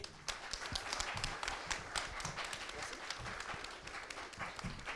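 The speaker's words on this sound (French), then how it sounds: "On peut applaudir Adrien qui va commencer" A small audience at a climate event claps for a speaker named Adrien as he begins, with individual claps distinct and uneven, moderately near, over a few seconds.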